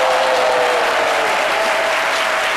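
Audience applause in a TV studio, a dense, steady wash of clapping filling the whole short stretch at full loudness.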